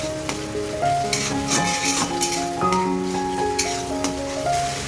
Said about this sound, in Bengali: তেলে একটু পেস্টটা একটু নাড়িয়ে এখন আমি মশলাগুলো দিয়ে দেবো